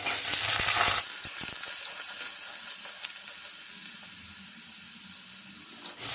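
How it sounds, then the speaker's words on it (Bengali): Radish pieces fry in a pan with a soft, steady sizzle after a brief louder burst at the start, with a few light clinks of utensils, close by and without talk. "মূলোটা একটু ভাজা ভাজা করে নেব"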